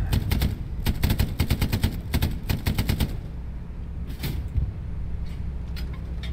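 Gunfire in the World War II shooter game Hell Let Loose, with loud rapid automatic bursts for about three seconds, then a rumbling engine-like drone and a few more scattered shots.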